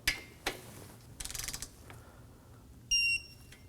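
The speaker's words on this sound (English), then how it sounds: "Now we can go ahead and torque them to 6 foot-pounds" A torque wrench snugs the condenser nuts to 6 foot-pounds on a 2016-2020 Kia Sorento 2.4L: a brief rapid ratcheting burst, a few scattered clicks, then a short sharp mechanical tick in a quiet garage.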